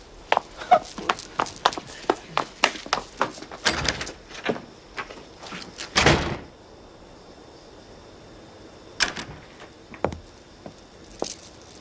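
Close, irregular knocks, clicks and thuds come from a front door being handled and opened, with a heavier bang midway, then a quiet gap before a few more sharp knocks.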